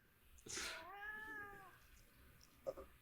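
A cat gives a clear, drawn-out meow near the start, loud and close, with a short faint chirp-like sound near the end against a quiet room.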